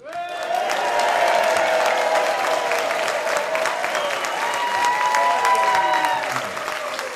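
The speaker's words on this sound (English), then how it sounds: "So, Kenny, kindly start the applause as you now welcome to the stage my friend, Sam." Loud, sustained applause fills the Duchess Theatre as a live puppet show audience welcomes a performer to the stage, with cheering, whistles and tonal voices riding over the clapping throughout.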